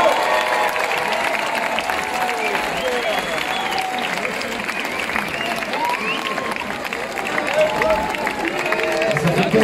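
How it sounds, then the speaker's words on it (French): An audience applauding and cheering for a singer as she takes the stage at the Transbordeur, loud continuous clapping with crowd voices and shouts mixed in. "on vous demande de l'applaudir bien fort"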